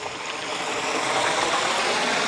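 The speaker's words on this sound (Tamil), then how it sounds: "தண்ணி எல்லாம் எப்படி ஓடுது" Water flows in a stream beside rice paddies in a village in Vanni, Sri Lanka, a steady close rushing that swells slightly louder partway through, with no voices.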